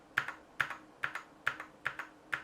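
Typing on a gaming RGB keyboard: six evenly spaced, crisp key clacks, each followed by a softer release click, close and clear with no talking.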